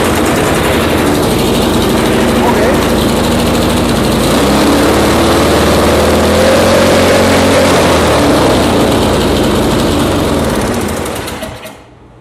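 A small engine runs loud and close, revving uncontrollably high with a steady drone that rises slightly, then cuts out and winds down at the end.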